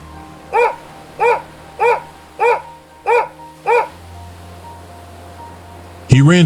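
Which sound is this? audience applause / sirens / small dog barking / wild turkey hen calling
small dog barking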